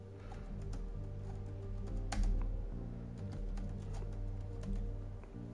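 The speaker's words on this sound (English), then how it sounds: "I'm also typing the pinned message as I'm talking" Rapid typing on a computer keyboard, close and clear, with quick irregular key clicks running nonstop over a low steady background hum.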